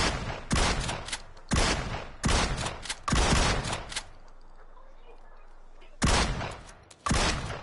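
Loud bursts of rapid gunfire in PUBG on PS4 shoot through a vehicle, several sharp volleys in quick succession, a pause of about two seconds, then two more bursts.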